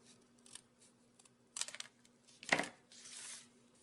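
Scissors cutting through card stock during a papercraft card-making project, giving a few separate quiet snips and one sharper cut followed by a longer slicing pass, close and with no talking.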